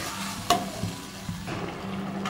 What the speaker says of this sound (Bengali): আর আমার মশলাটা কষানো হয়ে আছে, পেঁয়াজ আদা রসুন পেস্ট দিয়ে কষাটা করে নিয়েছিলাম